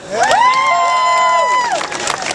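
Street crowd on Grafton Street, Dublin, cheering and whooping for a performer, a loud sustained shout from many voices with some applause mixed in, tapering off near the end.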